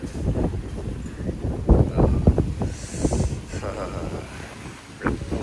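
Strong wind buffets the microphone in a steady low roar, with gusts surging and easing and a faint rumble underneath.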